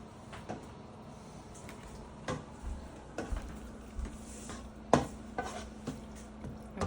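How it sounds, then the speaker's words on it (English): Cheese being stirred in a pan as it melts, a quiet scraping and shuffling with scattered light knocks of the utensil against the pan. "So we're just going to stir this until it melts."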